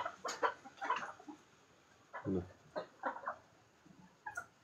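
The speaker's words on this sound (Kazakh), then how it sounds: "Қарауыңыздар, мына қара тауық жүр." Young and two-year-old Lohmann Brown laying hens cluck softly as they walk about, giving short scattered calls in small bursts at a modest distance.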